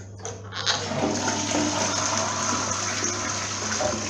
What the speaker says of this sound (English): And so here you go with my quiet toilet.